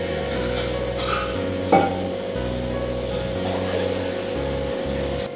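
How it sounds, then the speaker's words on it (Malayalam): Coconut pancake batter goes into a hot pan, bringing a soft continuous sizzle over a steady background hum, with one brief sharp clink partway through. "നമുക്ക് നമ്മുടെ പാൻ കേക്കിൻ്റെ മിക്സർ ഇതിനകത്തേക്ക് ഒഴിച്ചു കൊടുക്കാം"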